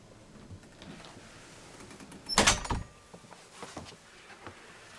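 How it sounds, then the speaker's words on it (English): A French-style cabin door aboard a Formula 45 yacht swings open with a sharp clack and latch rattle midway through, followed by lighter knocks and creaks in an otherwise quiet interior. "Again, French door here."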